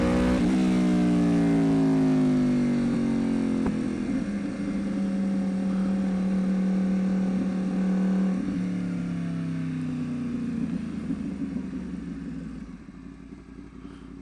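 A motorcycle is held at steady throttle while the clutch is slipped for a wheelie, its engine droning loud and close, rising to a hard rev, then dropping in pitch and fading toward the end.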